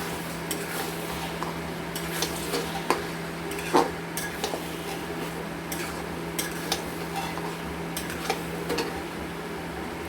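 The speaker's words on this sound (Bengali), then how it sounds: "তো চলো এটাকে আমরা মিনিমাম 3-4 মিনিট তো আমরা কষবোই আঁচ কমে।" Chicken being sautéed on a low flame, with a soft background hiss broken by scattered spoon scrapes and clinks against the pot over a steady low hum.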